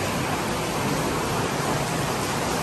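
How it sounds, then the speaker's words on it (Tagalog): Dense, steady hiss of heavy rain pouring without a break on a construction site, loud and close, with no voices or other sounds. "Ang lakas ng ulan."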